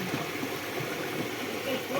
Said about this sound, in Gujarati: તમે જોઈ શકો છો આ વેંકળામાં કેટલું પાણી આવ્યું છે